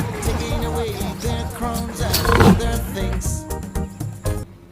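A lion roars loudly and alone in a children's alphabet song, a short rumbling roar that swells and then fades.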